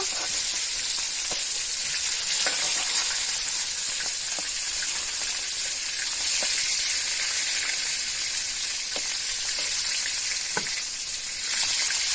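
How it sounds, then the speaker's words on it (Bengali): Bata fish pieces frying in oil in a pan, a steady, close sizzle with scattered sharp crackles and pops running throughout, no talking. "আমার মাছ কিন্তু এই পাশে পাশ খুব সুন্দরভাবে ভাজা হয়ে গেছে"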